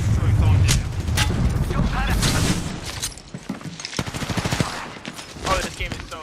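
Knuckle cluster weapon fires in a video game: loud, dense bursts of rapid shots and clattering impacts, heaviest in the first few seconds, with someone talking excitedly over the gunfire.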